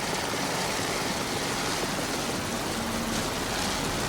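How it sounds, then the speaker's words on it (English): A steady, dense engine roar fills the scene without a break, loud and unvarying, from Chevy-powered offshore racing powerboats running flat out at a distance in a 1987 race. "These Chevy motors are putting out unbelievable amounts of horsepower right now."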